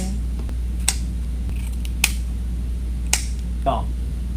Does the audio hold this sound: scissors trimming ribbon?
yes